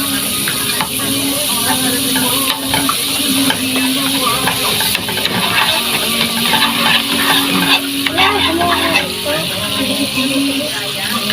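Tofu sisig fries in melted butter in a pan, a steady loud sizzle and hiss close up with occasional stirring scrapes, while a voice talks intermittently over it.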